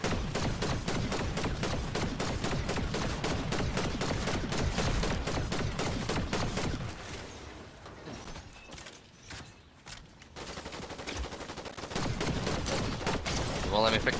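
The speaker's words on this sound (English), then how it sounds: "You guys just like having a shotgun battle up that distance? Sounds like it." Shotgun battle in a video game: dense rapid gunfire over constant game noise, close and loud, thinning briefly midway before picking up again.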